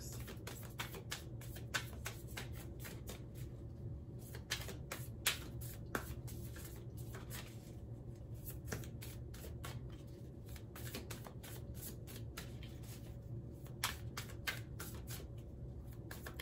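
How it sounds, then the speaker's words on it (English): A tarot deck being shuffled repeatedly, a rapid crisp riffling and flicking that comes in quick bursts over a low, steady background hum. "I love how this deck shuffles."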